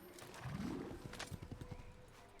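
Horse hooves clip-clop in a steady rhythm through the second half of a short moment in the Assassin's Creed video game, preceded by a brief rising whinny, moderately loud over faint background game sound.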